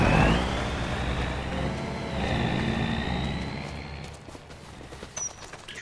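Truck engine in Farming Simulator 25, a steady rumbling drive with a rising whine that drops off toward the end, followed by a few faint clunks, with no talk over it.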